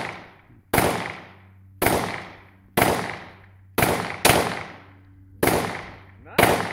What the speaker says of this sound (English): Shoot the target.